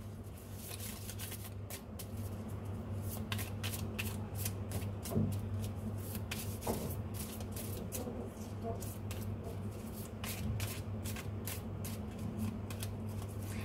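Tarot cards being shuffled and drawn for a reading: a long run of dense, rapid papery riffling and flicking over a low steady hum, with no talking.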